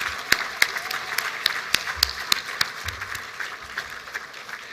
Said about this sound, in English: How about one more round of applause for all of them?